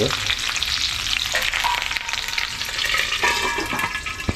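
Hot oil crackles and sizzles with a tempering of spices for wheat shevai, a dense, continuous frying noise with small pops and stirring close by.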